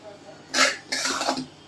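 Carrots for gajar halwa cooking in a pot are stirred with a utensil, giving two short scraping, sizzling bursts of moderate loudness, close up, with quiet room noise between.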